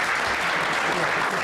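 Dense, steady clapping from the audience at a 2018 gubernatorial candidate forum, a brief unbroken burst of applause heard from within the room.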